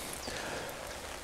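Steady spring rain pattering down at a lake during a fishing trip, a dense, even hiss of drops with no voices.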